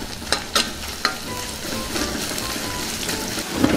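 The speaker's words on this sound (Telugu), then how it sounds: "ఇందులో కొద్దిగా అల్లం వెల్లుల్లి ముద్దను వేసుకుందాం. దీన్ని కూడా బాగా కలుపుకుందాం." Ginger garlic paste being stirred into onions frying in a pan, a steady sizzle and crackle with a few sharp scrapes of the spoon near the start, and no talking over it.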